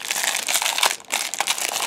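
Crinkly Tim Holtz collage paper handled up close, a continuous crisp crackling and rustling with a brief pause midway.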